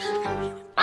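A cartoon duck gives a single drawn-out nasal quack, then a sharper, louder burst at the very end, close and clear with no talk over it.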